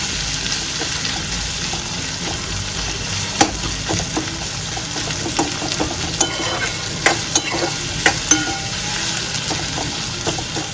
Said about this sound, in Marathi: कांदे छान ट्रान्सपरंट होईस्तोवर भाजून घ्यायचे.